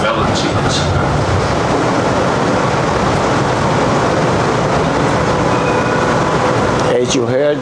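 Melbourne train running on rails, a steady loud rumble and rattle filling the whole clip, with a brief brighter clatter near the end.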